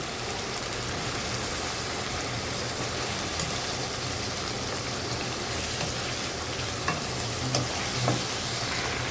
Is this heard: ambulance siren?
no